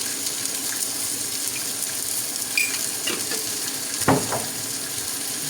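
Chilli and turmeric powder are stirred into onions frying golden in a pan, producing a continuous close sizzle with scraping stir strokes and a sharper clatter toward the end.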